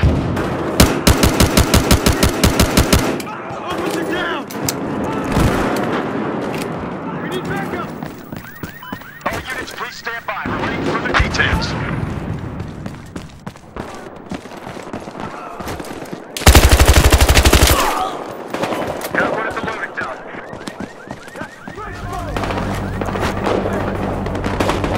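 Rapid automatic gunfire in the video game Battlefield Hardline, loud and dense bursts of fast repeated shots opening and returning later, mixed with other in-game combat noise throughout.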